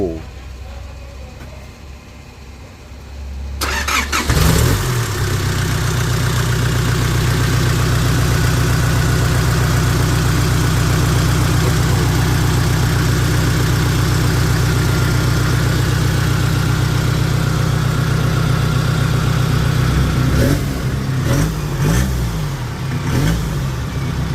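After a quiet moment a modified pickup truck engine cranks and catches, then settles into a loud, steady rumbling idle with a deep throaty tone, briefly revving near the end.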